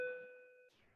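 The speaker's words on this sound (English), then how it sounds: "Here's the bell." A single bell strike rings out with a clear, sustained tone that fades over most of a second before a soft clunk; quiet and alone, in a classroom-style lesson setting.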